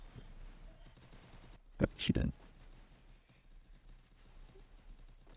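Free Fire video game gunfire: a short, sharp burst of several rapid shots, loud against a quiet background, with a player talking softly around it.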